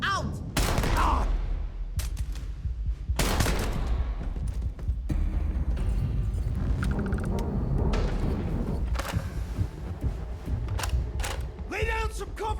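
Rapid bursts of sci-fi gunfire from the video game Starfield, loud and dense, with repeated volleys and sharp reports throughout, layered over a constant rumble of combat effects.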